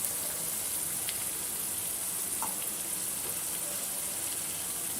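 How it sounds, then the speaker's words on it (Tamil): Asafoetida water is poured into sautéed onions in a pot for usili upma, giving a soft, steady hiss and sizzle at low volume with no break. "இப்போ பெருங்காய தண்ணி வந்து கொஞ்சமாக சேர்க்குறேன்"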